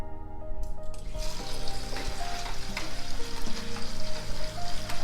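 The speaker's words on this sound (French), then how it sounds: "Il faut bien rincer les nouilles avec de l'eau froide pour que la chaleur part et que les nouilles deviennent froides." Cooked noodles rinsed under cold running water, a loud close steady rush and splash of liquid with some tonal ringing, no speech over it.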